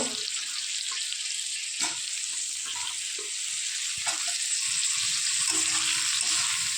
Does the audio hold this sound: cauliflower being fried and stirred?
yes